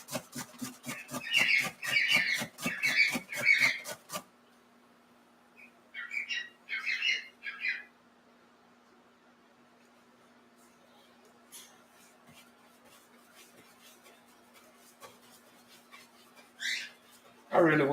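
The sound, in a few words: birds screaming and squawking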